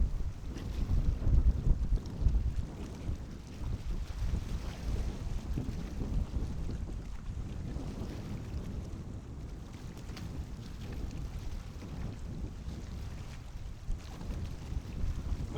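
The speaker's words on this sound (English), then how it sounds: "This wind is pretty bad." Wind buffets a microphone outdoors on a fishing trip, a constant low rumble with gusty thumps throughout, fairly loud and with no voices.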